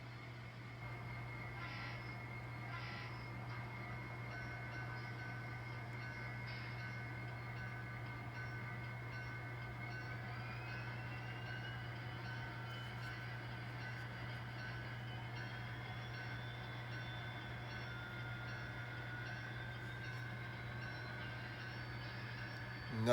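An N scale model train runs along a layout, a faint steady motor hum with a thin rising whine and light clicking, continuing quietly without talk.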